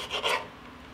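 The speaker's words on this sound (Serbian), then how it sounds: "I na kraju ću iseckati 5 paradajsa." A knife slices through a tomato in a home kitchen, making one brief rasping cut near the start. Quiet stillness follows.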